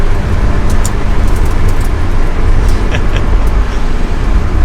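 Ferrari 360 Challenge Stradale driven on the road: a loud, continuous engine and road roar inside the cabin, steady throughout with brief higher flickers as revs rise and gears change, no voices.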